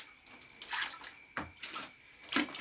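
Water flows from a pipe fed from a hillside near a house at the edge of an equatorial rainforest, a quiet uneven splashing with a few stronger gurgling bursts.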